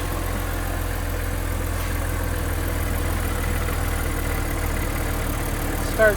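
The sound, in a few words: rattling, misfiring engine of a BMW E90 330xi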